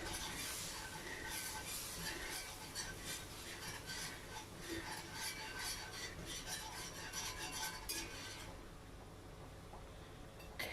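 A whisk scrapes and rasps steadily through flour in a pot while making mac and cheese, a dense continuous metallic stirring noise close by that thins out near the end.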